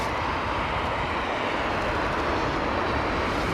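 An airliner at London Heathrow Airport in crosswind conditions roars steadily as a broad, continuous engine rumble with no gaps, loud and constant throughout.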